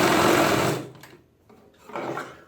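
A sewing machine stitches a straight seam on a Punjabi pajama, a short loud burst of whirring that stops, followed by a quieter pause and a second brief run.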